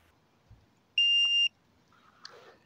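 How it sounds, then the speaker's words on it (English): A drone's 5.8 receiver gives a single steady electronic beep for about half a second, clear over a quiet background with faint rustling. "It's beeping. Can you hear that? Beep, beep."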